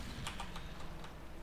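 Computer keyboard keys clack in a quick burst of about five or six presses while a player drives a truck in SpinTires, close and fairly quiet against a steady low hum.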